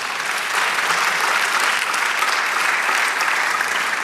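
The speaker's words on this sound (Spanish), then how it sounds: "Dale aplauso al Señor." A church congregation claps steadily in praise during a Spanish-language sermon, dense even applause from a crowd lasting a few seconds at moderate volume.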